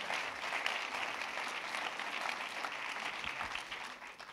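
Sustained applause from a festival audience at a closing-night awards ceremony, honoring a jury member; steady dense clapping fills the room evenly, moderately loud and alone.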